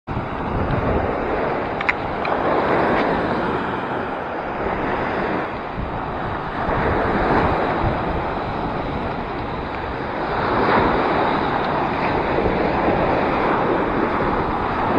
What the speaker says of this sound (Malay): Ombak bergulung-gulung geng.